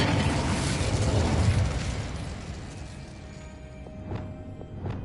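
Incendio fire spell cast in Hogwarts Legacy: a loud burst of roaring flame that fades away, followed by a few small clinks.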